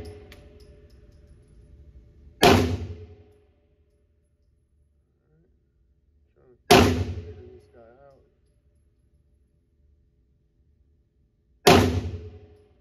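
Three loud 9mm pistol shots from a Tisas 1911 Night Stalker at a shooting range, spaced several seconds apart, each a sharp crack with a short decaying tail and near silence between.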